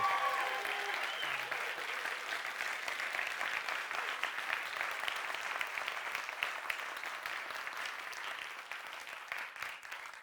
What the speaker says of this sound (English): they've earned one more round of applause for all three of them and for FameLab Academy